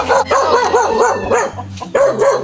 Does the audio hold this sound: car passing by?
no